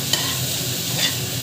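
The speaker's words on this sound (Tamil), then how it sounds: "பச்சை மிளகா ஆட் பண்ணிட்டு நல்லா வந்து வதக்கிக்கோங்க." Onion and green chillies being sautéed in a pressure cooker for a biryani, a steady sizzle and frying hiss with faint stirring scrapes throughout, close and continuous, with no voices.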